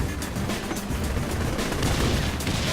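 Dense, continuous gunfire from the video game Saints Row: The Third, a loud sustained barrage of overlapping shots with no breaks and no talk over it.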